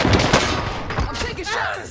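Gunfire from an automatic weapon in the video game Warzone crackles in rapid, overlapping bursts, loud and close, with other shots mixed in behind.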